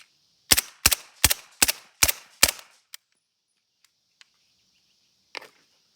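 Six sharp suppressed shots from a full-size MP5 submachine gun fire in a quick, evenly spaced series at a range, each a crisp crack with a brief tail, followed by a few faint clicks and one softer pop.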